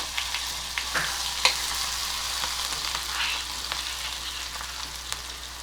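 Garlic, asafoetida and curry leaves sizzle and crackle in hot oil during a tempering over mustard and cumin seeds, a steady bright hiss with small pops, close and alone.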